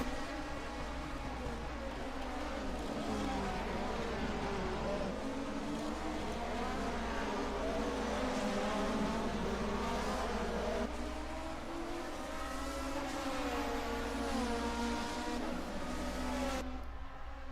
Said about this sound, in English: Juha shows us the proper way to brake for the Grundig car.